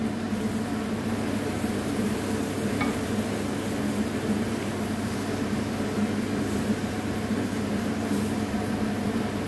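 Tomatoes and green beans are stirred together in a pan for a tajine, giving a steady, even hiss of gentle sizzling and stirring with no talk.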